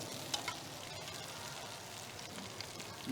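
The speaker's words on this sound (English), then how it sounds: "you just take a little bit of white onion and we want to saute that down to be translucent" White onion sautéing in a pan during a bouillabaisse cooking demo, a soft, even sizzle with a few faint clicks, quiet and steady throughout.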